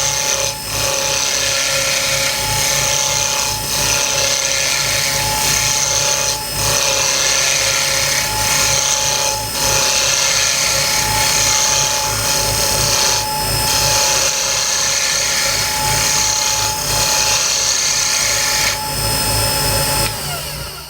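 Lathe tool riding the bevel on a spinning wooden pen blank, a steady loud grinding whir with rhythmic catches as the cut progresses, continuous for the whole stretch with no talk.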